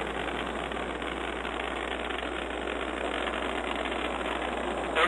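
The solid rocket motors of a Delta IV Medium+ (5,4) rocket roar in a steady, broad, distant rumble during launch ascent, heard continuously through a radio-like channel.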